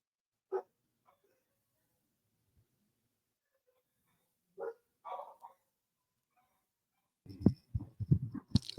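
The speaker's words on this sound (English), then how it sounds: "That is my dogs barking in the background." Pet dogs bark in the background indoors: a single sharp bark, then a short pair of barks a few seconds later, and finally a rapid flurry of close, louder barks near the end.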